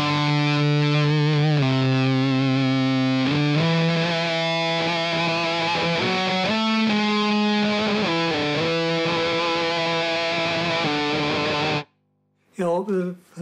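A single long sustained note on a distorted electric guitar passes through a noise gate, ringing loud and steady with shifting harmonics for about twelve seconds before cutting off abruptly, followed by brief bursts of sound.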